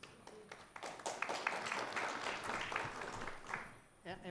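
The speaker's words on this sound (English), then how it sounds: "let's give a round of applause for our panelists here today" Audience applause for a panel at an evening event on the 2024 elections, broadband clapping swelling and holding steady for several seconds, with voices mixed in before it tapers near the end.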